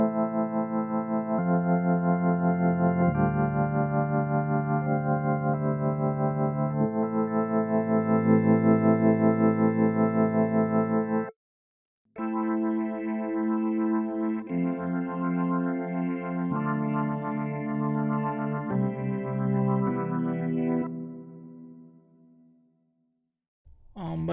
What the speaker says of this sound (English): Now let's play a little bit here from the B3.